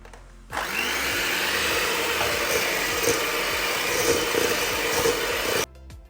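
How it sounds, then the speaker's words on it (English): An electric hand whisk whirs steadily as it beats butter and caster sugar for a cake batter, a continuous close motor drone with slight rattling that switches on, runs for about five seconds and stops. "with an electric whisk like this, I'm going to beat this for 1 to 2 minutes until it's nice and creamy"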